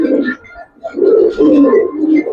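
Close, loud cooing from Giribaz pigeons, an old-generation domestic breed, with several rolling coos repeating in quick succession and a short pause between them.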